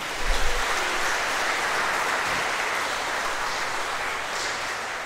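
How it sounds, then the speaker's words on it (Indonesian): Applause for a choir inside a Catholic church during an evening gathering: a full, dense, continuous roar of clapping from the congregation that holds steady and fairly loud throughout, with no voices on top. "Tepuk tangan untuk mereka di belakang."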